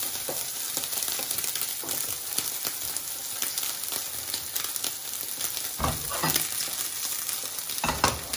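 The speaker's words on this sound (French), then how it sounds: "on va saisir juste notre viande des deux côtés bien" Rump steak sears in olive oil in a hot pan, a steady loud sizzle running throughout, with a few brief clatters and stirring scrapes near the end.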